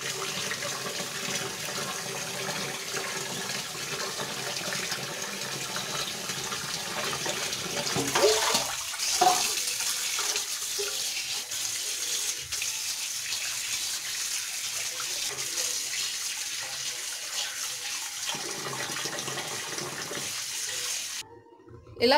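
Tap water runs steadily as dried sea fish pieces are rinsed in a kitchen sink, a loud gushing flow that drops away midway into quieter trickles and splashes, then a sudden knock at the end.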